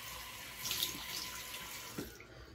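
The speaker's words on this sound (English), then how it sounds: "Cold water splash." Cold water running from a sink tap and splashed onto the face, a steady, close rushing stream with brief splashing accents and no talk.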